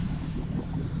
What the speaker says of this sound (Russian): Моторчик прогревается.